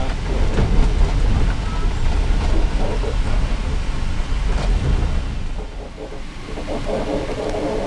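Steady low rumble and rattling roll of the Indian Pacific passenger train running on rails in Australia, continuous and fairly loud throughout, easing slightly near the end.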